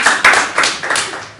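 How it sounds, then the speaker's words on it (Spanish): A few sharp, close hand claps from a small group in a math class, brief and uneven, lasting just over a second. "Correcto, muy bien, un aplauso."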